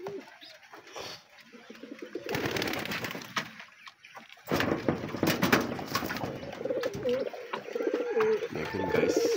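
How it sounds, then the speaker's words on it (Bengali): Red Bombay pigeons coo at a pigeon farm, their soft calls repeating up close amid bursts of flapping and clatter, with excited talking over parts of the scene. "লাল বোম্বাই কবুতর মারাত্মক লেভেলের।"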